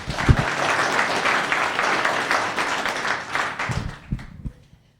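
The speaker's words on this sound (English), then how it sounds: "round of applause again" A crowd at a town council meeting applauds steadily for several seconds, the clapping tapering off near the end with a couple of louder knocks.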